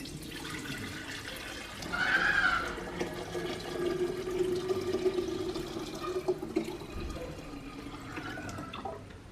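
Water carrying hatched artemia (brine shrimp) is poured into a bowl, a steady trickling splash running for several seconds with some brief louder gushes. No voices.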